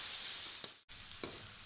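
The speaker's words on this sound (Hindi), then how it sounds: "इसे मीडियम फ्लेम पर 3 से 4 मिनट के लिए भून लेंगे।" Onions fry over a medium flame in a soft, steady sizzle, with a couple of faint stirring scrapes and a momentary drop in the sound midway.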